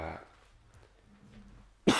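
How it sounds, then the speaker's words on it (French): A single sharp cough bursts out near the end after a quiet stretch, close and fairly loud. "Je devrais mettre mon coude pour bien tousser."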